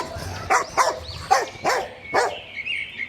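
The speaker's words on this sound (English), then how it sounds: "D for dog." A small dog yips and barks in a quick series of about six short sharp barks, close and fairly loud, as part of a children's alphabet song.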